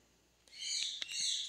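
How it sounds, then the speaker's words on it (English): Pet parrot calling indoors, a loud, shrill, piercing screech lasting about a second, with a few clicks and knocks beneath it. "Sorry for the noise from the parrot."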